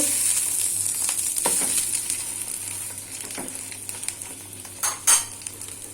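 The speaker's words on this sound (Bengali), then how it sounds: "এখানে রান্না করছি আলু টমেটো দেওয়া মাছ" Fish with potato and tomato frying in a pan, a steady close sizzle and hiss, then a couple of sharp metallic clinks of a lid or utensil near the end.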